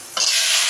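Taro stolons hit hot oil tempered with nigella seeds, bursting into a loud, sustained sizzle and frying hiss that swells abruptly and holds steady close by, with no talk.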